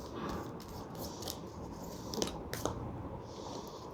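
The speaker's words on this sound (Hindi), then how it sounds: "कार्ड शफल कर लेते हैं for Leo next 2 months please." Tarot cards are shuffled by hand, giving crisp snapping and riffling clicks in irregular bursts. The sound is close but fairly quiet, with no talking.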